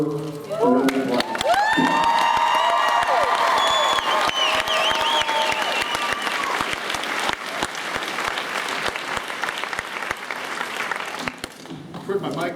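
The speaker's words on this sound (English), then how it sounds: "you should give her a round of applause." A convention panel audience breaks into loud, sustained applause with cheers and whoops, close and dense at first, then settling into steady clapping that slowly thins out.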